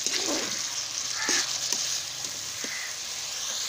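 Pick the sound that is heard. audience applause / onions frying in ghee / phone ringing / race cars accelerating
onions frying in ghee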